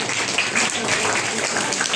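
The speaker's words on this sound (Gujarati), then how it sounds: "તાળીઓથી આપણે વધાવીએ." An audience at a school admission festival claps steadily for about two seconds in a dense, even wash of applause.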